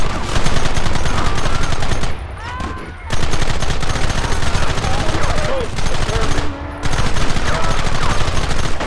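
Loud, dense gunfire during a shootout in Red Dead Redemption, rapid overlapping shots in sustained bursts with two short lulls, shouted voices mixed in.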